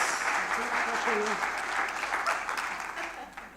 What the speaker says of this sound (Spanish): Un aplauso a mi esposa.